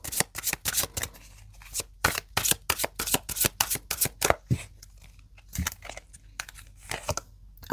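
Tarot cards being shuffled and drawn, a close, crisp run of rapid riffling flicks in quick bursts that slow into a few separate snaps and slides near the end.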